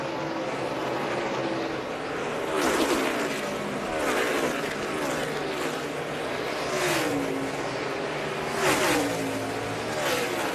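Race cars roar past near the wall at a NASCAR event at the 2013 Ford EcoBoost 400, engine pitch sweeping up and down with each loud pass over constant crowd and track noise.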